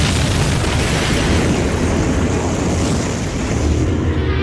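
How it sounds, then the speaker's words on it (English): A loud, sustained roaring blast of noise fills the space for several seconds, like a rushing explosion that rumbles on without letup, from a magic explosion during a spirit invocation in the 1996 film The Craft. "a weird magic explosion happens"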